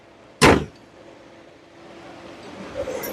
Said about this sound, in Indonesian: sekarang kita tutup kap mesin